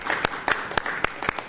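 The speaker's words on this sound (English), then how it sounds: "Can we get another round of applause?" A small audience claps for Senator Mikulski at an event about the new FBI headquarters. The applause is sparse, with a few loud separate claps spread over a thin wash of clapping.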